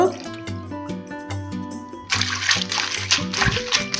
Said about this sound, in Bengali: আমি শুটকিটা খুব সুন্দরভাবে ধুয়ে নিয়েছি